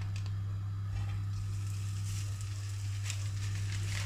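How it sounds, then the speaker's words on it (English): Steady sizzling of pork schnitzel frying in a little hot oil in a frying pan, a continuous crackling hiss with faint pops, close by with no talking. "So I'm just going to fry these off."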